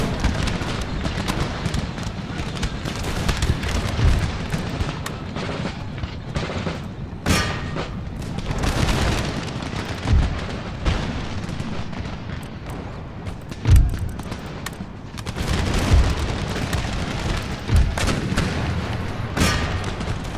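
Cannon and musket fire in an Empire: Total War battle at Mysore, a dense, continuous rumble of artillery booms and crackling volleys, with sharper distant blasts standing out now and then.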